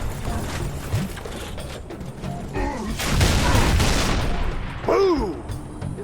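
In Halo 2, a weapon gives off metallic reloading clicks amid bursts of gunfire and mechanical clatter, with a short vocal shout near the end.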